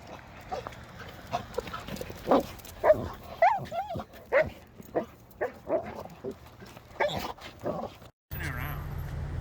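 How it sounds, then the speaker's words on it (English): Dogs bark in short, sharp bursts scattered through the clip, with voices and street noise around them and a brief loud rumble near the end. "we're out here on the streets filming dogs"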